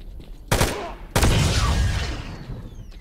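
Two loud Gauss rifle shots in S.T.A.L.K.E.R. Call of Chernobyl, each a sharp blast followed by a long rumbling, ringing decay, the second hitting about half a second after the first.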